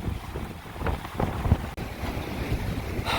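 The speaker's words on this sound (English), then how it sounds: "But the wind is howling and my siding is flapping." Howling Tropical Storm Sally wind lashes a house on Dauphin Island, Alabama, a steady loud roar with gusty rumble and irregular flapping knocks of loose siding close by, continuing without pause throughout.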